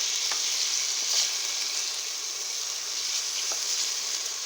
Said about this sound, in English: Just gonna cook the stem first, coating it in the oil